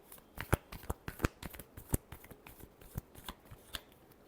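Tarot cards being shuffled by hand, a run of sharp irregular riffling snaps and flicks, close and fairly loud, with no talking.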